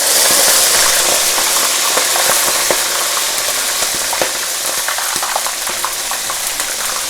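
A shrimp head deep-fries in about three cups of oil heated to 350 degrees Fahrenheit in a wok, giving a loud, steady sizzle with small crackles and pops scattered throughout.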